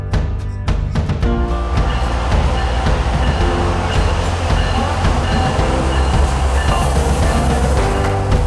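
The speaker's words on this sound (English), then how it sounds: "so this time it's an actual train" A train in Boston rumbles loudly and continuously, with a steady low drone, rattling wheels and clatter throughout, and faint talk underneath.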